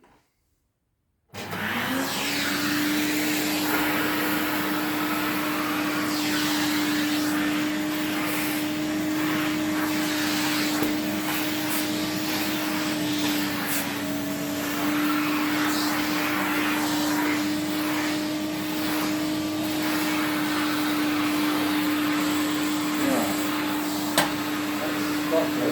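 A 1977 Electrolux Z302 vintage vacuum cleaner switches on and runs on a living-room carpet. A steady, loud motor whine holds for over twenty seconds with faint shuffling underneath.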